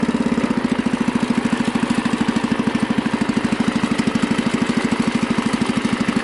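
A Husky 600 engine idling steadily, a loud close rapid chugging pulse with an even, unchanging rhythm and no voices.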